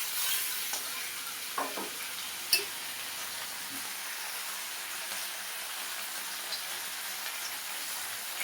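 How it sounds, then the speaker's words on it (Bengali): Catla fish fries in a hot wok, giving a steady, moderate sizzle with occasional soft pops and a few scraping clicks from the utensil. "এখন কাতলা মাছগুলি ভেজে নেব"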